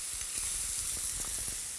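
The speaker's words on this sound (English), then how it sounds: "Grill the kalbi-kui, the butterflied beef ribs, until sizzling and golden brown on the bottom." Butterflied Korean kalbi-kui beef ribs sizzle on a grill, a steady close hiss of fat spitting with small crackling pops throughout, no voices.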